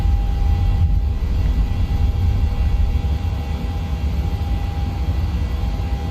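A Qantas PMDG 737 takes off in Microsoft Flight Simulator 2020: loud, steady jet engine roar with a constant whine, filling the cabin at full power without pause.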